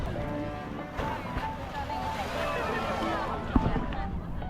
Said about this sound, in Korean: 이렇게 파도 치는 걸 놀이로 즐기고 있는 이곳은 오사 광장이에요